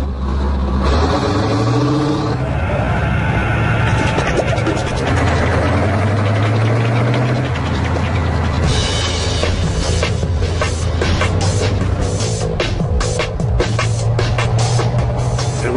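A Panzerhaubitze 2000 self-propelled howitzer's heavy engine drives and rumbles steadily and loudly up close, with shifting low-pitched revving throughout and mechanical clatter.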